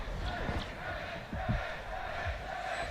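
Crowd at a Valorant Champions 2023 watch party roaring and cheering, a dense continuous wash of voices with rising swells, heard under an excited commentator's voice.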